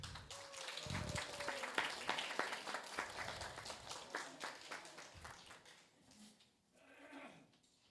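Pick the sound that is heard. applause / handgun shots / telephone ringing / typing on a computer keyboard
applause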